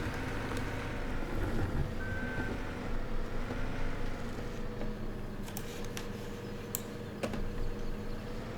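A small skid steer in Farming Simulator 2017 hums steadily while its reversing alarm beeps intermittently, with faint clicks on top.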